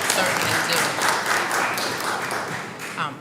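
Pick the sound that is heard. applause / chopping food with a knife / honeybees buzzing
applause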